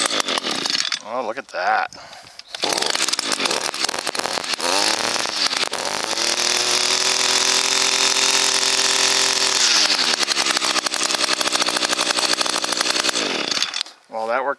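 An ECHO SRM 225 string trimmer with a newly replaced carburetor sputters, then revs up under the throttle to a loud, steady two-stroke whine that holds for several seconds before cutting off. A voice speaks briefly early on.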